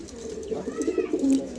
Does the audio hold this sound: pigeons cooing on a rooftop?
yes